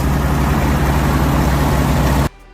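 An Oliver 70 Hardwire tractor's six-cylinder engine runs loud and steady at a constant drone, then cuts off abruptly near the end.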